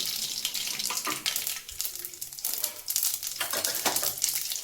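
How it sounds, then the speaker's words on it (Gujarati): Mustard seeds hit hot oil for a tempering, giving a loud, dense crackling sizzle with bursts of spattering and a few faint clinks, and no voices. "તેલ આપણું એકદમ સરસ ગરમ થઈ ગયું છે તો આપણે સૌથી પહેલાં રાઈ એડ કરશું વઘાર માટે"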